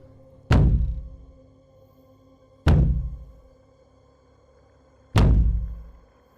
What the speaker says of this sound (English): That's not knocking, that's banging.